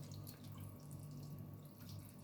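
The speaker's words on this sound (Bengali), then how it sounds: "দেখো আমি এই 3 বাটি জল এতে আমি পুট করলাম" Water from three bowls pours into a cooking pot, a steady faint splashing rush that runs continuously with no talking.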